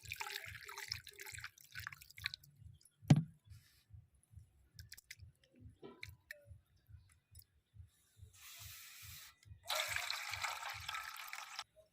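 Flattened rice (chira) being rinsed with water, with a steady rhythm of soft drips and small splashes, a sharper splash near three seconds, and a brief run of flowing water toward the end.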